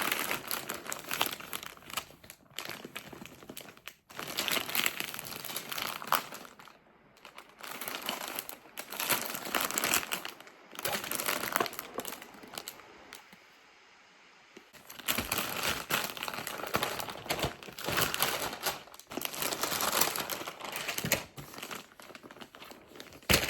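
Packaging for a Louis Vuitton Pochette Metis bag crinkles and rustles as it is handled, loud and close, in long bursts with a few short pauses.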